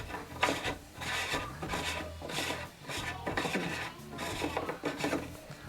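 Plastic twist-on cap of a Ryobi 18-volt ONE+ P4001 drain auger being unscrewed by hand, a quiet close rasping and rubbing in repeated short turns with brief pauses between twists.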